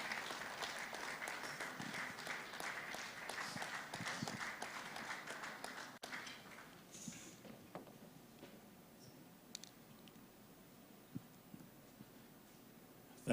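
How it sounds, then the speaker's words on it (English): An audience at an honorary fellowship investiture ceremony claps loudly and steadily for several seconds, then the applause thins out into scattered faint claps and small room noises. "Oh, please, let's keep clapping for him."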